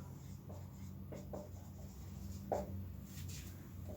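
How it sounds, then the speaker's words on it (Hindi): Soft pen-on-paper scratching of a question being written out in English during a Class 10 real numbers maths lecture, faint and steady with brief strokes, over a low background hum. "इंग्लिश में लिख देता हूं।"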